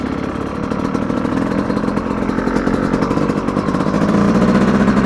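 A 2025 Yamaha YZ250X dirt bike ridden gently during engine break-in, its two-stroke engine buzzing loud and close with a fast steady pulse that climbs slightly in pitch toward the end, no talk.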